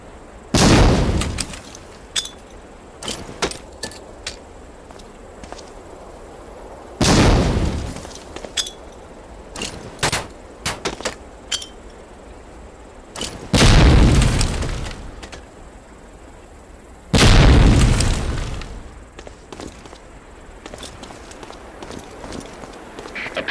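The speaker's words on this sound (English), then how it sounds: "Throw a grenade into each of the concrete boxes." Grenades exploding inside concrete boxes in Medal of Honor: Allied Assault, four loud booming blasts spaced several seconds apart, each followed by a short decay, with footsteps and small clicks in between.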